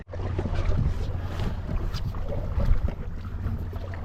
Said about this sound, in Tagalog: Ang halakas na ng hangin talaga eh.